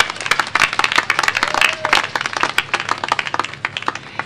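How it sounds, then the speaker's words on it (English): Steady applause from a crowd at an outdoor groundbreaking ceremony, dense clapping that holds throughout without pause, fairly loud and close. "Let's give a big round of applause to Donna Barrow"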